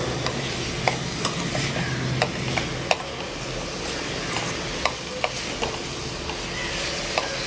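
Sweet susiyam batter made from idli batter being stirred in a pan: a steady, close sizzle with light, regular ticks and scrapes from the spoon repeating throughout.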